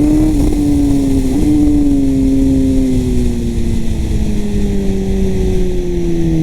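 A Kawasaki ZX-10 R sport motorcycle on the move, its engine droning loud and steady throughout, the pitch falling slowly as it rolls off speed, with no voices.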